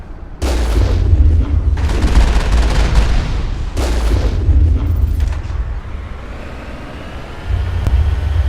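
Heavy booming gunfire from the Mako armored vehicle in the Mass Effect video game, loud bursts of explosive shots with rumbling low thuds, pausing briefly before firing resumes.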